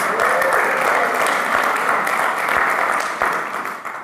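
Sustained audience applause at a talk on lasting love and a 47-year marriage, dense steady clapping filling the room for about four seconds before thinning slightly at the end.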